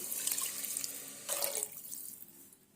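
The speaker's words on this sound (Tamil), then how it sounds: "இப்போ வந்து இதில் 4 கப்பு தண்ணி விட்டுக்கலாம்" Water pours into a pot of soaked, washed Ponni rice for kuska: a close, steady splashing stream for under two seconds that tapers off into quieter trickles, with no talk.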